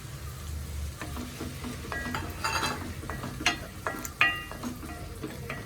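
Onions frying in coconut oil with ginger-garlic paste for a Kerala-style beef fry, a steady sizzle broken by spoon stirs and scraping clinks against the pan, close and alone without talk.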